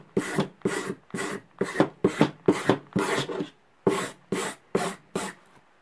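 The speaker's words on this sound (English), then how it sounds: "You take a file that's got some crud on it, and you can get the file clean." A metal file being scrubbed clean of built-up crud: about a dozen short, evenly spaced rasping strokes, close and crisp, with a brief pause before the last few.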